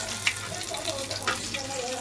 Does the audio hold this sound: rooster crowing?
no